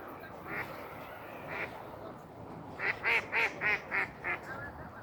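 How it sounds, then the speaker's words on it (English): Ducks quack along a downtown waterfront inlet in Toronto at night. A short run of six or so rapid, fairly close quacks rises over steady city ambience, after a couple of earlier isolated calls. "Oh, it looks like we found some ducks."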